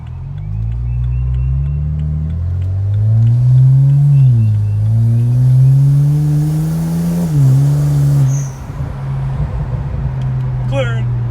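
BMW 335i fitted with test pipes accelerating hard on a test drive, a loud, steady engine drone that rises and falls through several gear pulls before dropping off near the end.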